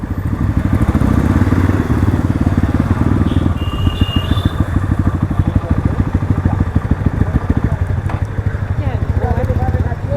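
A Crossfire RM250 motorcycle engine runs close by with a loud, rapid throbbing putter that speeds up and loosens while a voice talks over it.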